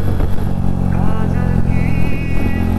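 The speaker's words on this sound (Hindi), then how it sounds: "बाइक थोड़ी सी खींचते हैं यार," A KTM RC 390 motorcycle accelerating on a dusty four-lane highway, its engine droning loud and close beneath strong rushing wind, with a rising whine as it pulls harder. Someone speaks over the engine noise.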